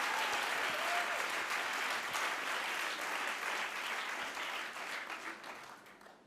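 Audience applause at a podcast festival closing and awards ceremony, a dense, steady wash of clapping from a large crowd that gradually fades toward the end.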